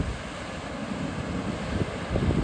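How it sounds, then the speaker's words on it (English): Strong wind gusting across the microphone at Chorillo del Salto near El Chalten, Argentina, a steady broadband roar that swells louder toward the end, with no talking. "oh, the wind"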